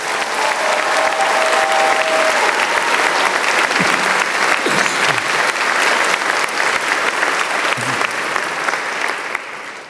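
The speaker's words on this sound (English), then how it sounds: "Can we give her a round of applause?" A large audience at a university academic awards convocation gives sustained, loud applause. Dense clapping fills the hall for about ten seconds, with a few faint voices beneath it.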